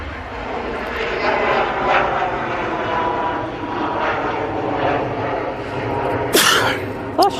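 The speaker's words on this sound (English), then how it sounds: "Oh, that was a bad sneeze" A single sharp sneeze bursts out near the end over the loud, constant drone of aircraft engines at Manchester Airport, with a brief second noise just after.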